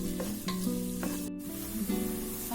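Onions frying in a pan for pepper mutton gravy, a steady close sizzle with a few scraping stirs and no talking.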